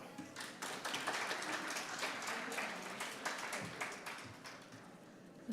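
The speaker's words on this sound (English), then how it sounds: "Let's welcome her with a cheerful clap" An audience at a symposium gives a welcoming round of applause for a speaker, dense, close clapping that holds steady and tapers slightly toward the end.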